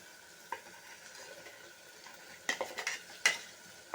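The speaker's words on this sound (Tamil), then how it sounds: "நல்லா வெங்காயம் இஞ்சி பூண்டு பேஸ்ட்டு எல்லாம் வதங்கிட்டு" Quiet, soft sizzling of onion and ginger-garlic paste sautéing, with a few scraping stirs of a spoon against a pan, brief and close, with short bursts of louder clatter near the end.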